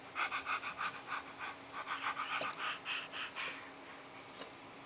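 A voice imitates a puppy with quick, rhythmic panting huffs, steady for a few seconds and then trailing off, close and fairly quiet.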